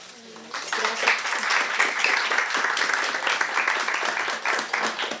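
Sustained audience applause at an academic humanities panel honoring speakers, dense and steady clapping from a seated crowd after a brief quieter start.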